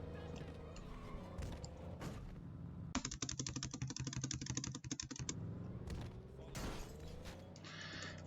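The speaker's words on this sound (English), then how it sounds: "I do apologize for the keyboard noises." Rapid keystrokes on a laptop keyboard, picked up close by the laptop's built-in microphone, come in a dense burst of clicking between stretches of quieter background noise.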